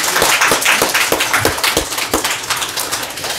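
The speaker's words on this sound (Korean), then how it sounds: "오늘도 우리를 예배 자리로 인도해 주신 하나님께 감사와 영광의 박수 올려드리겠습니다." A church congregation claps during a Korean Sunday worship service, rhythmic unison hand claps in a steady beat, close and loud, filling the room for a few seconds.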